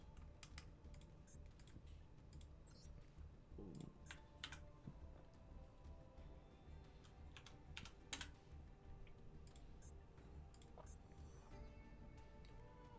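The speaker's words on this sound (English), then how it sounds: "I think I'm typing your ID unless I'm missing something." Rapid, irregular clicking of computer keyboard keys while entering an ID, quiet and close, with keystrokes continuing steadily in uneven bursts throughout.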